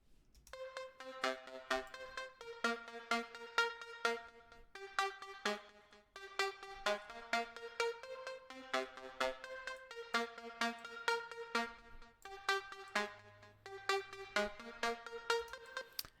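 A bright lead synth melody plays alone in FL Studio with its effects switched off. Short, clean plucked notes fall in a steady, repeating rhythmic pattern, close and moderately loud, with no other instruments.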